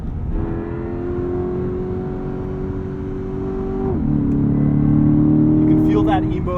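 A Chevrolet Corvette E-Ray supercar's engine drones steadily while driving, then drops pitch at a gear change and swells louder as it pulls away, heard from inside the car.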